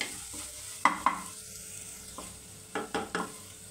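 Pasta masala mixture being stirred in a pan, a soft continuous sizzle broken by several sharp scraping clacks of a spoon against the pan, close and alone.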